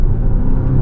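A 2023 Volvo V60 T8 Ultimate Recharge hybrid wagon at full throttle from 60 km/h gives a steady, loud low rumble and road roar heard from inside the cabin, brief and unchanging, with no talking.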